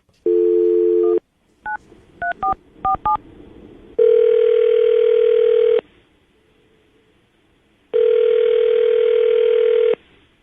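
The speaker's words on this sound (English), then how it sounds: "we're going to call her right now, get her on the phone" A landline telephone call: a short tone, then a quick run of touch-tone dialing beeps, then two long, loud ringback tones separated by silence.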